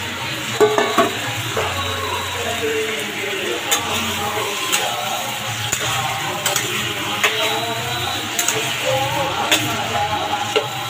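Fried spices are stirred into potatoes in a pan, with repeated spatula scrapes and soft clinks over a low sizzle in a steady, close rhythm.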